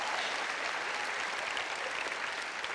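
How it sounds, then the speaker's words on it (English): Crowd applause at a horsemanship demonstration, a dense, continuous wash of clapping at even loudness throughout, with no voices standing out. "the crowd goes wild."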